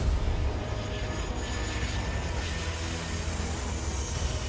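A jet airliner roars loud and close as it passes just a few feet above people on the beach at Princess Juliana International Airport on Saint Martin. The broad engine rumble stays sustained throughout.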